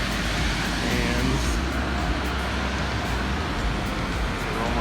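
Automatic car wash spraying and scrubbing a pickup truck, a steady, dense roar of rushing water and machinery heard from inside the cab throughout, with one brief spoken word.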